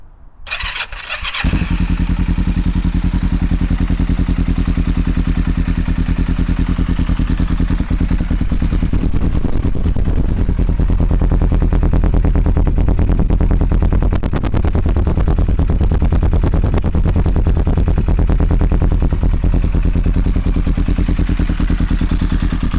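A Kawasaki ER-5 motorcycle with an aftermarket Delkevic exhaust cranks and fires up, then settles into a loud, steady, throaty rumble with a deep exhaust note, revving slightly, with no talking.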